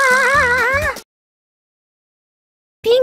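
A cat meow sound effect in an animated comedy skit, one long wavering meow followed by silence and then the start of another.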